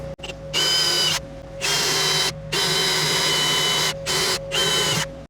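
A power drill whines loudly while boring through thick car sheet metal and a boxed pocket beneath it on a 1966 Mustang during a suspension upgrade, running in several long close bursts with brief pauses between them.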